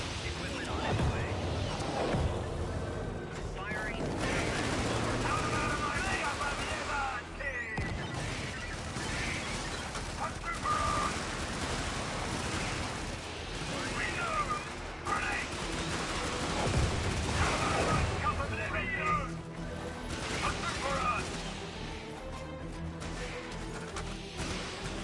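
Shotgun blasts and dense battlefield gunfire in the co-op shooter Helldivers on PS4, loud and continuous with crashes and explosions throughout, mixed with occasional voices.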